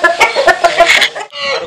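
Fighting roosters raised on a farm cluck loudly and close up in a quick burst of harsh, rhythmic calls, ending with a drawn-out squawk.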